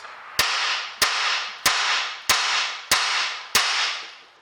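Six sharp hammer blows ring out at a steady pace on the wheel bearing assembly of a 2008 Ford Mondeo, each strike loud and close with a brief metallic decay, no voices.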